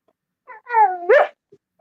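A dog gives a single short whining yelp indoors, rising and then breaking off sharply, close and fairly loud against near silence.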